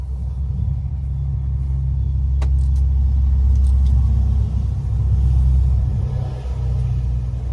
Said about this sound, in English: That truck's running by.